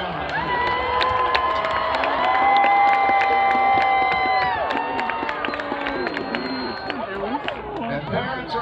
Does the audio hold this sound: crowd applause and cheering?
yes